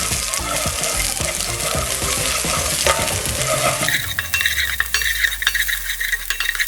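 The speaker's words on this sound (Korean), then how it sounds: "아까 편 썰어 놓은 이 마늘을 마늘 기름이 나올 정도로 볶아주세요" Sliced garlic stir-frying in sesame oil in a pan, a steady loud sizzle with scraping and stirring, then a lighter crackling fry with occasional clinks of a utensil.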